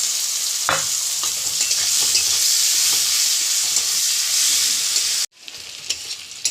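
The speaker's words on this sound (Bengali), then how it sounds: "তেলে দিয়েছি তেজপাতা, গরম মশলা আর পেঁয়াজ দিচ্ছি।" Onions fry in hot oil with bay leaf and garam masala while katla fish is cooked. A loud, close, continuous sizzle carries occasional stirring scrapes and breaks off abruptly near the end, leaving a fainter hiss.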